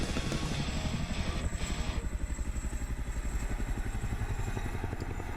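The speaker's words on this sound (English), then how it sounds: "Chinook." A Chinook helicopter passes overhead with a loud, steady, rapid thumping of its rotors and a continuous engine roar, heard alone.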